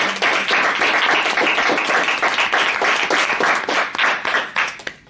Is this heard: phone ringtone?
no